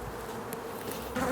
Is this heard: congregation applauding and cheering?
no